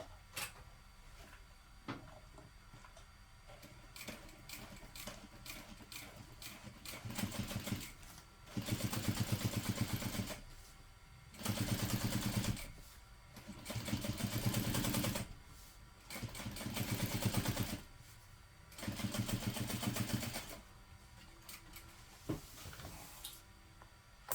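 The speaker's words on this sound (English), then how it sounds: "now I just want to top stitch along this section, along this seam" A sewing machine top stitches along a seam, running in several separate loud bursts of rapid mechanical whirring a few seconds each, with quieter pauses between them and no voices.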